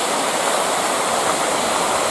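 Water in a stream near an old limestone mining area in Virginia rushes steadily, a loud, close, continuous broadband roar with no breaks.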